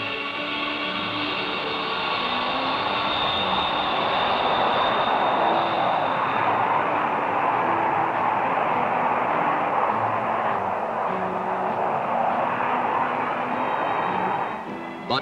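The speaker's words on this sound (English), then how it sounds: "You are cleared for takeoff." Strategic Air Command military jet aircraft taking off, a loud sustained engine roar that builds and holds steady throughout, with a fainter tonal whine riding on top.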